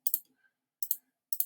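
Mouse buttons clicking on an online calculator, three short crisp double clicks spaced about half a second apart, close and alone in a quiet room.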